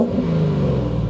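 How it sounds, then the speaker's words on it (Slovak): A 1998 Land Rover engine revs, a strong low droning growl with steady harmonic tones that hold close and loud, no voices over it. "možno by sme si mohli ešte trošku zvuk motora vypočuť"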